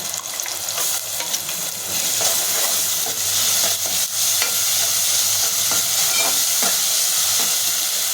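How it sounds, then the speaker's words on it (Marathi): Ground masala paste frying in a pan with cooked tomatoes for a fish curry, stirred steadily throughout: a loud, continuous sizzle and hiss with repeated scraping strokes of the spoon, no voices. "इथे आपण जे वाटण केलेले होते ते वाटण टाकून घेऊन परतून घेते"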